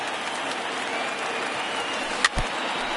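Video-game baseball crowd of over 28,000 in the ninth inning, rising to its feet as the Cubs near their final strike: a steady broad roar of cheering and applause throughout, with a brief louder thump near the end.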